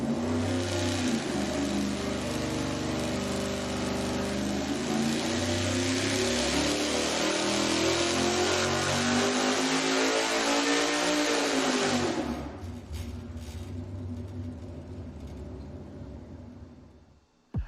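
A V8 with a dual-quad tunnel ram intake on an engine dyno pulls hard at 600 RPM per second, a loud sustained roar rising steadily in pitch for about twelve seconds before abruptly dropping off to a lower idle-like drone.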